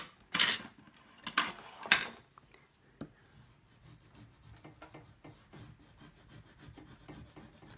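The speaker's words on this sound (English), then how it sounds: "So now we need to burnish this real well." Score tape on a pinball playfield is burnished by hand, producing a few loud close rubbing strokes at first, then quieter scattered scraping and rubbing.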